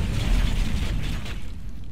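A shot fired at a tank in the World War II shooter Heroes and Generals booms with heavy low rumble and a mechanical rattle, sustained for about two seconds without speech.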